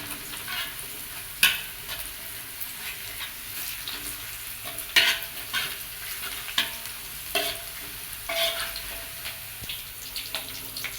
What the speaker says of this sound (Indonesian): Kita tumis sampai harum ya.